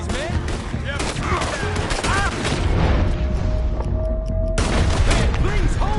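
Rapid bursts of gunfire and booming shots in Red Dead Redemption 2, loud and continuous across the whole stretch, with clustered volleys and a brief tonal whine partway through, over a dense roar of background noise.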